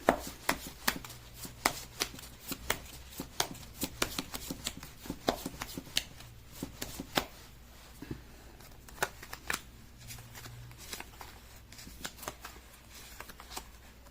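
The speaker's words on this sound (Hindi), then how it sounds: "कर लेती हूँ कार्ड की शफलिंग" A deck of tarot cards is shuffled by hand in a long, steady run of quick riffling slaps and soft flutters, close and fairly quiet, with no talking.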